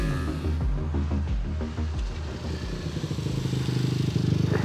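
A motorcycle ridden fast through corners, engine note rising and falling with rapid revving pulses, close and loud, easing off then building again toward the end.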